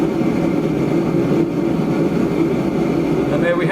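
MASTER BLP 17M DC battery-powered gas heater starting up as its ignition fires, a steady loud roaring rush of burning gas and fan noise, close and continuous with no talk.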